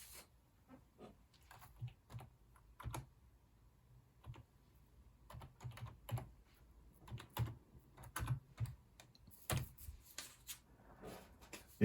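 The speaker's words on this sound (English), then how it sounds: "So let's type that in." Keys clack on a computer keyboard as a command is typed into a Linux IBM 1620 simulator, quiet irregular taps in short bursts with brief pauses between.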